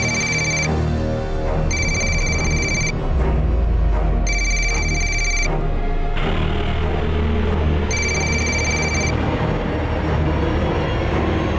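A telephone rings in repeated electronic bursts over a low rumble like a passing train, each ring about a second long with short gaps, fairly close and clear.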